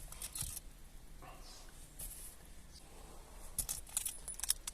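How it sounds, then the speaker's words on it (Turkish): A key slides into and turns in the ignition lock of an automatic Opel Vectra B, giving faint metallic jangles and clicks in short bursts against a quiet background. "Anahtarı takıyoruz, çeviriyoruz."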